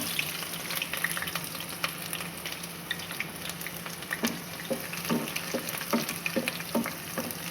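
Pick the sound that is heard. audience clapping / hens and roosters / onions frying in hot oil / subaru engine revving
onions frying in hot oil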